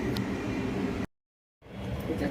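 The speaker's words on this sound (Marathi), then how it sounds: "सगळं मिक्सरला लावते," A mixer grinder whirs as it grinds fresh coconut, ginger pieces and onion into a paste, a loud steady rushing hum that cuts out abruptly for about half a second and then starts again.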